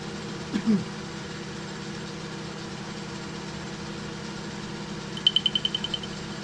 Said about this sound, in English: So switch on. It's about 800 RPM at the moment.